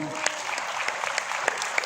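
Applause from an audience, a steady patter of many hands clapping at close range for a couple of seconds.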